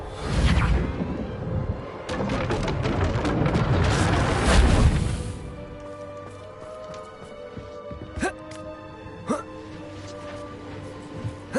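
Reparo repair spell cast in the video game Hogwarts Legacy: a swelling magical whoosh with booming rushes for several seconds, then a quieter tail of sparse chiming, tinkling accents.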